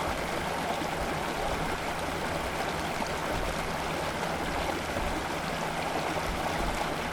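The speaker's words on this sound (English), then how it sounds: "It's pretty much going to wash out the entire roadway." Water rushing steadily over a scale model roadway as it washes out above a clogged culvert, a continuous even stream-like gush, close and alone without talk.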